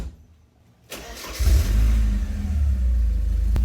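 Porsche 924S/944 engine fitted with a new muffler, quiet at first, then firing up around one second and settling into a loud, deep, steady exhaust rumble with a slight rev swell, heard close and alone.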